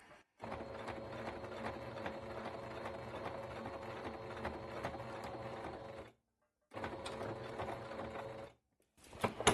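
Sewing machine stitching bias binding onto fabric, a fast steady mechanical whirr in two close runs with a short pause between and a final stop.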